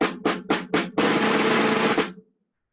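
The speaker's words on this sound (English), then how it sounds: "The one you'll be playing most often is the snare drum." A snare drum is struck four times in quick, evenly spaced hits, then a sustained roll lasts about a second before stopping. It is loud, close and solo.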